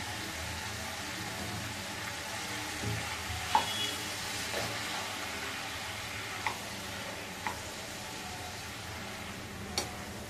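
Brinjal pieces fry in a pan for a tomato curry with salted fish, giving a soft continuous sizzle with a few scattered clinks and taps, low in level and with no voices.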